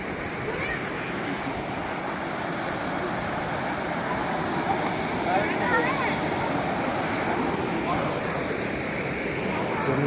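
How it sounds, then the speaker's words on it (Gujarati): Water runs from the mountain rocks behind the Dhaar Mata temple in Banaskantha. It makes a steady, broad rushing wash that stays even for the whole ten seconds, with no clear talk. "સામે પહાડોમાંથી પથ્થરમાંથી પાણી આવે છે."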